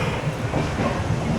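A train runs along the railway track in Kerala, a loud, steady rumble of wheels and carriages with a continuous rattling roar heard from close by, no voices.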